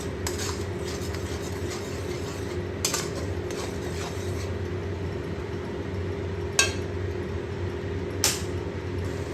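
Prawn malai curry simmers while a spoon stirs it in a metal pan, giving soft scraping and occasional sharp clinks against the pan over a constant low hum.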